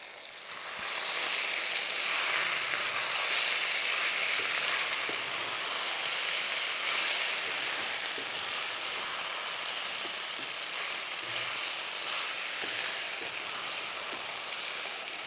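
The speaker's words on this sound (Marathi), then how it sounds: "एक दोन ते तीन मिनटं पूर्ण गॅस कमी करून भाजी शिजवून घेऊया" Cauliflower and pea sabzi cooks covered on low gas, giving a steady, dense sizzle and hiss that holds evenly from start to finish with no talking.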